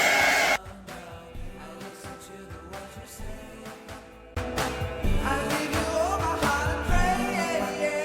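Hair dryer blowing on a short pixie-cut human-hair wig, a steady close airflow roar that softens partway through and then returns louder and fuller for the remainder.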